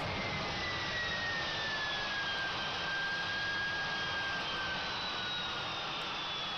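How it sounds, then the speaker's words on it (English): Airbus A350-1000 jet engines in the GeoFS flight simulator on the ground at Heathrow, a steady loud broadband roar with a faint whine gliding slowly downward as the engines spool down. "Engines off."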